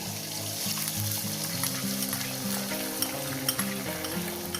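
Ivy gourd with egg fries in oil in a pan, giving a steady, close sizzle with occasional stirring, all under continuous background music.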